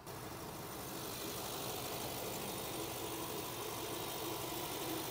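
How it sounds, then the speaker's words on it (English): A Ford 7.3-liter Godzilla V8 in a pickup truck idles steadily, a continuous moderately loud engine hum with no voices. "The engine sounds great."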